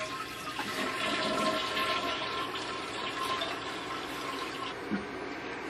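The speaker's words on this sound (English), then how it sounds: "And now I'm going to flush again." A toilet flushes steadily for several seconds in a bathroom, the water rushing and draining at an even moderate level with no talking over it.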